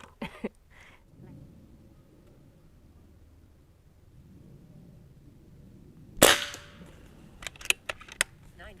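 Barra 1100Z .22 air rifle firing outdoors: one loud sharp crack followed by several quicker snaps and clicks, over a faint quiet background.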